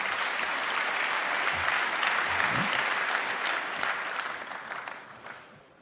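Audience of about 3,000 applauding after Richard Stallman's talk at the 31C3 congress in Hamburg, steady dense clapping that fills the hall and thins out toward the end.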